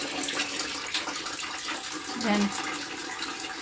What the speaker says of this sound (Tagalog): Ang ating pusa, umiinom ng tubig.